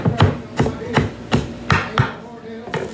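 A knife chops a tomato into small pieces on a cutting board, giving about eight sharp, evenly spaced chops, close and fairly loud, with no talking.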